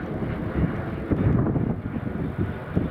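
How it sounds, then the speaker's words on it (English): EasyJet airliner going around at Newcastle Airport in stormy wind, a rumbling jet roar mixed with heavy, buffeting wind noise on the microphone, steady and fairly loud throughout. "Yeah, EasyJet has just gone around."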